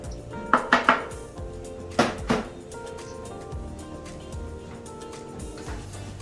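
Onion and tomato being stirred into beef kidneys in a pan: a few sharp clicks and scrapes of a utensil against the pan in two short bursts, then a quieter stretch of low sizzling and occasional faint scrapes.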